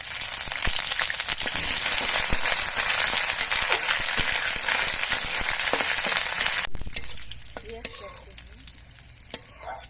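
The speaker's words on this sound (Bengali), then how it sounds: "আর দিচ্ছি অল্প করে একটু আদা বাটা" Ginger paste frying in hot oil with cumin and slit green chillies, a loud, steady close sizzle with stirring scrapes that drops away sharply near the end, leaving a faint crackle.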